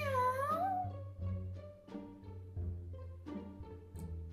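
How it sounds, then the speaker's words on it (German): A cat meows several times in a row, a drawn-out wavering call followed by shorter, varied meows and chirps. It is close and fairly quiet, with no voices. "was sagt da die Katze?"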